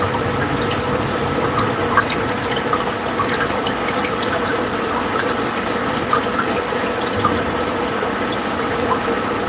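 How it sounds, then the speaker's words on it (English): Water is poured steadily from one container into another, a continuous close splashing and trickling with faint clinks from a net being rinsed during night feeding. "I pour from one container to the other container so I can rinse my net in it"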